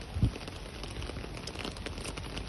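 Steady, soft rain patters on surfaces outdoors, an even hiss that carries on without stopping, with one brief low thump near the start.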